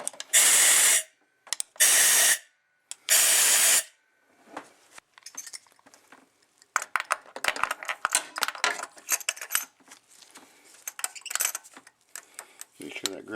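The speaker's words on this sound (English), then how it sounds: "if you have access to compressed air, go ahead and shoot a little bit out down into the hole to clean it out" Compressed air shot down into a spark plug hole on an Acura/Honda J-series V6 engine, three sharp, loud bursts of hissing air in quick succession, followed by quieter clicks and metallic handling noises.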